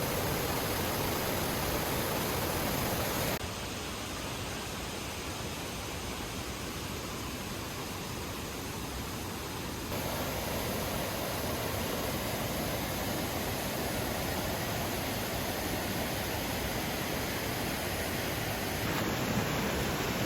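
A waterfall roars as a dense, continuous broadband rush of falling water along a slippery rocky trail, heard close and steady for the whole stretch with small shifts in level and no voices.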